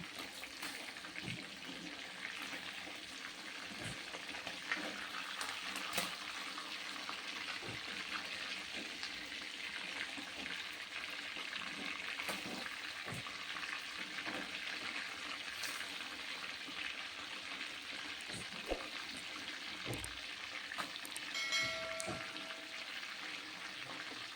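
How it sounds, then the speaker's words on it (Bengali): Chicken pieces frying in mustard oil in a pan, a steady, even sizzle and hiss that runs unbroken throughout, with occasional small crackles and pops. "এপাশ ওপাশ মিলিয়ে কুড়ি মিনিটের জন্য আমি ফ্রাই করে নিলাম"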